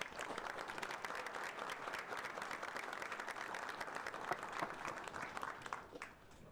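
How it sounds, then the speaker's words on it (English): An audience at an advanced autonomy technology event applauds a panel, a steady wash of many hands clapping at low volume that continues evenly before tapering slightly at the end. "a round of applause for our great panel for today"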